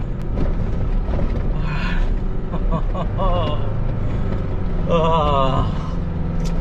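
A heavy 4WD engine roars loudly under strain, revving hard to about 4,000 rpm in low first gear with rear locker engaged up a steep muddy rainforest hill, with a person's voice shouting over it.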